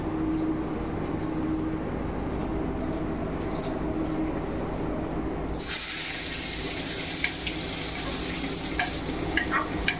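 Chopped onion and two dried red chillies frying in hot oil for an egg do-pyaza, giving a steady loud sizzle that grows brighter and fuller partway through as the onion goes in, close and continuous.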